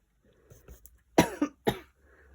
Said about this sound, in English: Oh dear, pardon me coughing.